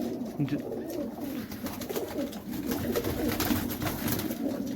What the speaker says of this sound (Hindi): कबूतर तो बहुत सारे हैं